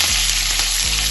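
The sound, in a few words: mustard seeds, shallots and curry leaves frying in hot oil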